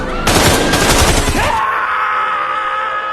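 Rifle gunfire in a film scene, a loud dense burst of rapid shots lasting over a second, then cut off abruptly into a lingering ringing tone.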